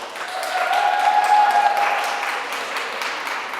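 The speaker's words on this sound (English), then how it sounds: "You hear the applause." Audience applause at the hybrid Körber Berlin Forum 2020 foreign policy event rises and then slowly fades, a crowd of hands clapping at moderate distance with a faint tone running underneath.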